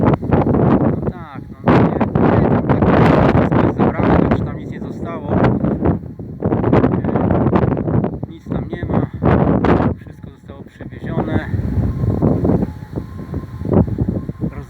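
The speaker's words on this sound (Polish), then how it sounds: "Wiatr, straszny wiatr jest, no jest okropny wiatrzysko" Strong gusts of wind buffet the microphone in loud bursts, broken by brief lulls, while a person talks throughout.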